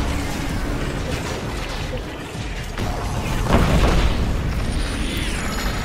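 Shooting breaks apart machine parts in Killzone Shadow Fall, bringing loud booms and crashing impacts over a dense rumble of gunfire and mechanical noise that swells toward the end, with a player talking underneath.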